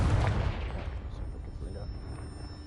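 A Confringo fire spell blasting in the video game Hogwarts Legacy, a heavy booming burst that hits loud at once and then rolls off into a long, rumbling decay.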